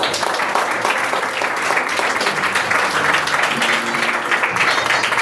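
A church congregation applauds the Lord, loud and dense clapping from many people filling the space continuously, with some voices mixed into the sustained ovation.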